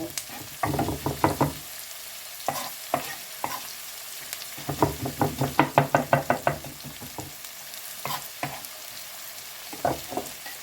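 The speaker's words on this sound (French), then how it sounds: "je coupe vraiment, je hache le gingembre" Ginger is chopped with a knife on a board in quick bursts of sharp knocks, some clustered rapid runs of chops, close and clear with pauses between.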